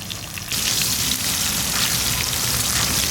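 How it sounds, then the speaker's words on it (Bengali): Potatoes frying in oil left over from frying eggs give a loud, steady sizzle that jumps up sharply at the start and then crackles on continuously, close by. "ওই ডিম ভাজার তেলেতেই আলুটা ভেজে নেব।"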